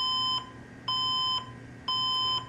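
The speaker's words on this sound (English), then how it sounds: "That's probably an I don't have RAM beep" A desktop PC motherboard sounding a no-RAM error code: three evenly spaced, loud electronic beeps, each about half a second long, repeating steadily with no talk.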